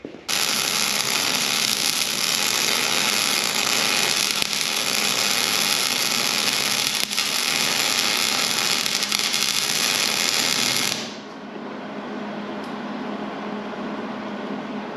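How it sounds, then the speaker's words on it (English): Welding on a custom heavy-duty water wagon and attachment trailer build: a steady, loud crackling hiss that runs unbroken for about eleven seconds, then cuts off to quieter background noise. "Just to see this thing get welded up a little bit."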